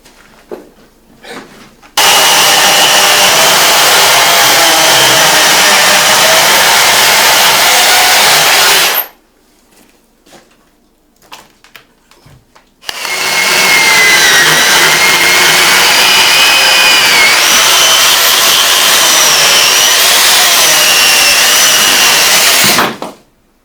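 A chainsaw roars loudly and steadily for several seconds, drops to quiet idling, then roars again at full throttle for a long stretch.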